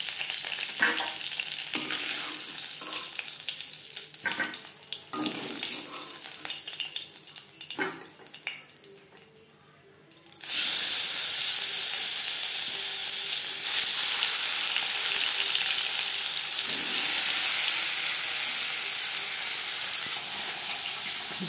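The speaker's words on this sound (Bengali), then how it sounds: "আমি একটু কড়া করেই ভাজলাম।" Bhola sea fish fries in a pan, a loud continuous close sizzle that swells partway through, preceded by quieter stirring and kitchen clatter.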